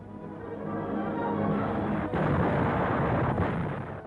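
Naval guns pound German coastal defenses of steel and concrete on D-Day, a continuous rumbling roar of heavy bombardment with dull booming swells, distant and sustained.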